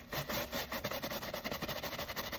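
A shoe brush scrubs a preowned shoe in quick back-and-forth strokes, giving a close, rhythmic, fairly quiet rasping scratch that repeats steadily throughout with no voices.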